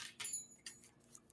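A few quick papery riffles and light clicks of tarot cards being shuffled, close and fairly quiet, in two short bursts with small taps after.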